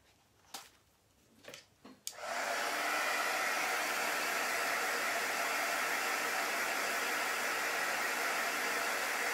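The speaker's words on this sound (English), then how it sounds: "I'm going to blow dry it." A hair dryer switched on to blow-dry chalk paint on a small wooden craft house: a few soft knocks, then a steady loud whooshing roar that holds unbroken for the remaining seconds.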